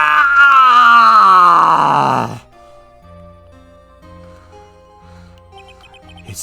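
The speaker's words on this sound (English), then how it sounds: "It's that scream I heard in the elevator 15 years ago." A loud, anguished scream in the Phoenix Wright: Ace Attorney game slides downward in pitch for about two seconds, then cuts off abruptly into quiet background music.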